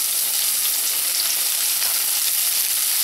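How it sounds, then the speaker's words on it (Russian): Onion frying in oil in a pan, a loud, steady close-up sizzle with crackling throughout and no speech. "Влила в сковороду масло и отправляю туда половину лука."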